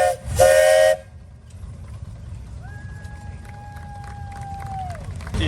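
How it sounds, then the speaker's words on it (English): A 1915 20-horsepower Advance Rumely steam traction engine sounds a steady whistle for about two and a half seconds at an outdoor steam show, over a low rumbling engine and ambient crowd noise. "How about a whistle there?"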